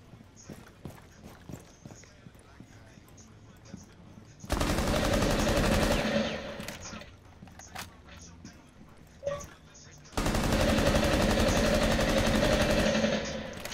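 Automatic gunfire in Rainbow Six Siege: two long, dense bursts, loud and close, separated by quieter stretches of footsteps, clicks and scattered voices.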